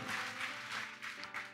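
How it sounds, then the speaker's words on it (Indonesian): A church congregation claps together in a dense, steady burst of applause that fills the room at moderate volume, with no voices standing out. "Yang setuju berikan tepuk tangan. Yang paling meriah."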